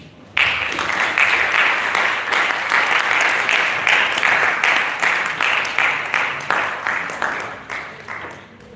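An audience applauds after a presentation with a sudden, close burst of clapping that holds steady, then thins into scattered individual claps toward the end.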